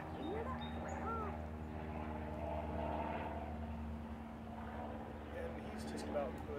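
Airplane flying overhead outdoors, a faint, steady low drone lasting throughout, with bird calls and some talking heard over it.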